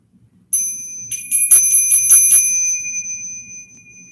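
A meditation bell at a Buddhist sangha gathering gives a bright, clear ring with shimmering, pulsing overtones that sustain and slowly fade, heard alone in a quiet room.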